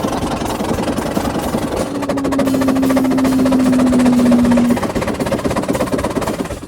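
A 1906 Stanley Steamer steam car, a Vanderbilt Cup racer, runs loudly with a dense rushing roar and rapid chuffing pulses, while a steady whistle-like tone holds through the middle stretch.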